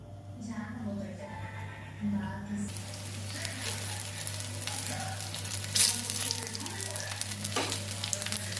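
Snacks fry one at a time in white oil on a tawa, a moderate sizzle with a low steady hum beneath and occasional clinks and bubbling pops, growing denser after the first few seconds.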